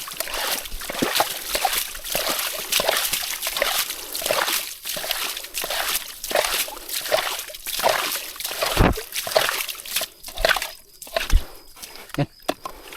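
Water sloshes and splashes in repeated bursts through the whole stretch, close by and fairly loud, with people talking over it.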